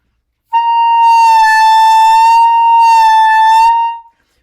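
A single sustained high C on a clarinet, bright and steady with rich overtones, held for about three seconds at close range with no talking.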